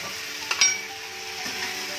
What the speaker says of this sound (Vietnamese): Mình xào lên cho nó khô nha cả nhà.